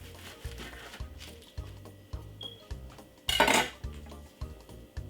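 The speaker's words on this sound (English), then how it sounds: "But let's cut this one and see something" A knife cuts through fried Christmas beet on a plate, making a series of rhythmic clinks and scrapes against the dish, with one louder crunchy scrape partway through, close and fairly quiet.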